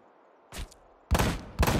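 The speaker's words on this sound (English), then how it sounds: "Do you hear the gunshots when that guy's not firing?" Gunfire in the video game Ride to Hell: Retribution, three short bursts of shots in under two seconds, the later two louder and fuller, heard alone without speech.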